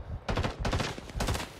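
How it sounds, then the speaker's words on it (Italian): Rapid bursts of automatic gunfire from the Rising Storm 2: Vietnam video game, loud and close, in three quick volleys with no talk. "mi stavano sparando tantissimo"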